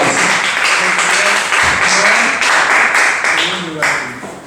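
An audience at a slam poetry contest claps and applauds in a dense, sustained burst that holds strong and then eases slightly toward the end, with voices mixed into the crowd noise.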